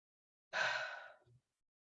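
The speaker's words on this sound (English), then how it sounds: "Let's take a deep breath" One audible breath, a deep inhale lasting under a second that tapers off, followed by a short soft exhale, close and quiet against silence.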